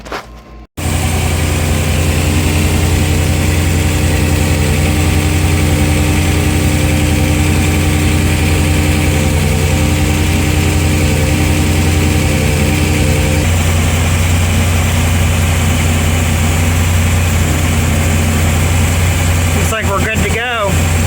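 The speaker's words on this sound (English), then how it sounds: "we got both engines running" Steady low rumble of the twin engines of a Silverton 34' Convertible boat idling close by, continuous and even throughout, with a brief sputter at the start as they catch.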